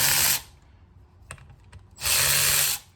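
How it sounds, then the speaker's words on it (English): Ratchet wrench backing out half-inch side cover bolts on an old Muncie 4-speed transmission, two bursts of rapid clicking separated by a pause with a few metallic taps, close up and alone. "now we're just going to pull all the side cover bolts off. And again, these are 1/2 inch."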